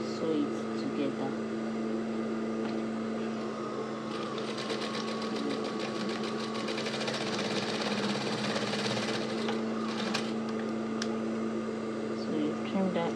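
A sewing machine stitches along the fabric edge of a homemade headband, a steady motor whir with a rapid needle rattle that swells in the middle stretch, running continuously under a constant hum.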